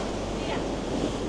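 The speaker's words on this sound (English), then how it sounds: "You need that rushing water" Ocean surf rushes toward the shore on a seascape shoot, a dense continuous roar of breaking water mixed with wind buffeting the microphone, loud and close, with no distinct pauses.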